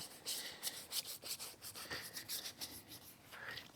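A soapy lug nut brush scrubs a car wheel during a wash, giving quick repeated bristly rubbing strokes at close range, steady and rhythmic with no talking.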